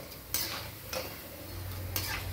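Onion pakoda kuzhambu curry being stirred lightly in a pot, with a few separate scraping clinks of a spoon against the metal spaced about a second apart over a low steady bubbling simmer.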